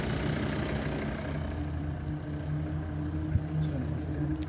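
A Volvo XC90 engine idling at close range, a low, even hum with a steady rumble and no knocks, continuous and unvaried.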